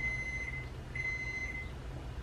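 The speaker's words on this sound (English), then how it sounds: "That's the oven ready for Jada apple pie that she's making for Lew" A home kitchen oven beeps to signal it has finished preheating, giving a few sustained electronic tones in steady succession, clear and close, with no talking over them.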